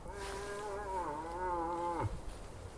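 A moose cow calls in the woods during the rut, a long drawn-out nasal moan with bending pitch that ends in a short grunt, heard from a moderate distance with a quiet forest background.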